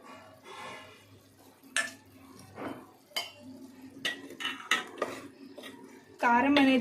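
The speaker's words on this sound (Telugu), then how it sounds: "చికెన్ పట్టుకునే విధంగా కారాన్ని ఈ విధంగా అడుగు నుంచి కలుపుతూ చికెన్ని ఫ్రై చేసుకోవాలి." Chicken frying with chili powder in a pan, stirred up from the bottom with a metal spoon, giving irregular scrapes and clinks against the cookware, close and moderate, with a brief louder sizzle near the end.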